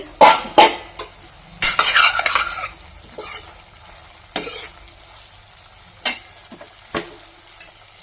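Curry sizzling in a pan as it is stirred, with loud clattering scrapes of a spoon against metal early on, then quieter sizzling and occasional sharp clinks.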